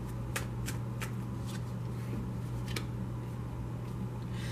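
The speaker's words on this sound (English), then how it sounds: "I have pre-shuffled this deck, so I'm only going to shuffle it for a moment." A tarot card deck being shuffled by hand, with crisp rapid riffling bursts repeating several times over a steady background hum, close and clear, no talking.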